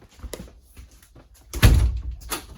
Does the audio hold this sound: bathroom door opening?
yes